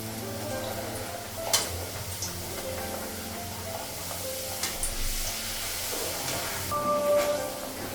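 Rolled luchi flatbreads fry in hot oil, giving a continuous broad hiss and sizzle with a few brief clicks and clatters over a low background hum.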